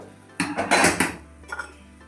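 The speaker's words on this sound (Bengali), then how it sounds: "জল দেওয়া হয়ে গেছে, এবার একটু নাড়িয়ে চাড়িয়ে নিচ্ছি।" Metal spoon scraping and clanking in a pan while pui shak curry is stirred after water is added, a short burst of loud clatter followed by quieter scrapes.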